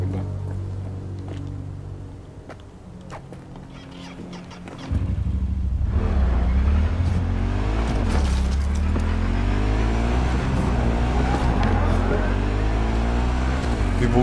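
Motorcycle riding in Cyberpunk 2077, a low engine rumble that swells louder partway through and then revs with rising and falling pitch, while someone talks intermittently.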